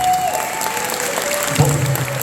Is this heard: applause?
yes